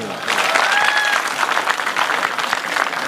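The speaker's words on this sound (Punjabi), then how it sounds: "ਇੱਕ ਰੀ ਖਾਲਸਾ ਕਾਲਜ ਲਈ ਤਾੜੀ ਮਾਰ ਦਿਓ" An audience claps for Khalsa College in Amritsar at a Punjabi folk song event, a loud, dense burst of applause sustained throughout with crowd murmur mixed in.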